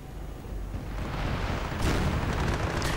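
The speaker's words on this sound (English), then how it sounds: "Another Calliope barrage right into the middle of everything." A Calliope rocket artillery barrage in a World War II strategy video game, a dense rumbling roar of overlapping blasts that swells and stays loud throughout, with no speech.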